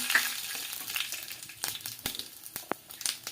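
Mustard seeds dropped into hot oil in a pan for gavran pithla, crackling and popping in scattered sharp bursts over a soft frying hiss, close by with no talking.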